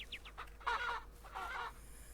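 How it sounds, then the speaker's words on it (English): A rooster in the farm video game Ranch Simulator gives a few quick high clucks followed by two longer, louder squawking calls, heard fairly close against a quiet background. "There's a rooster right there."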